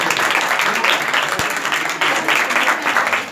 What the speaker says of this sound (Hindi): वेरी गुड, जोरदार तालियां।